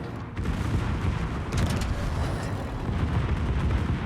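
Heavy battleship guns of a Swedish tier 9 Karl XIV Johan fire armour-piercing shells in World of Warships, a dense rumbling barrage of booms over steady low battle noise, with a sharper crack midway.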